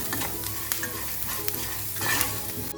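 Ginger and garlic sizzle steadily in a hot pan while a spoon stirs them, with scraping clicks over a continuous close frying hiss and no voices.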